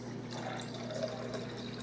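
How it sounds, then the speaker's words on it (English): Homemade buttermilk poured off freshly churned butter, a short soft liquid trickle and splash at moderate volume over a low steady hum. "I'm going to pour the actual buttermilk"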